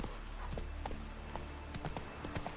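Hooves of the horse Roach in the video game The Witcher 3, clip-clopping in a steady rhythm of distinct thuds over a constant ambient bed.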